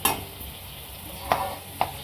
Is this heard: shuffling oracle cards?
no